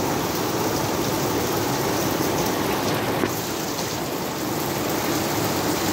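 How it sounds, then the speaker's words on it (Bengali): Steady rain falls in Riyadh, Saudi Arabia, as an even, close wash of patter that holds at the same level for the whole stretch, with no voices. "বৃষ্টি পরে টিপ টিপ,"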